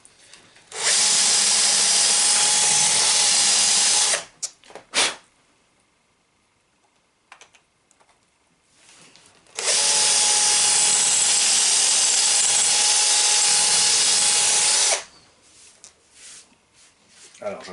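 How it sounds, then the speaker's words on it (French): A power drill bores into a screw head set in plastic, running in two long, loud, steady bursts of about four and five seconds, separated by quiet handling noises and brief silences. "Alors j'arrive pas à percer proprement la tête de vis."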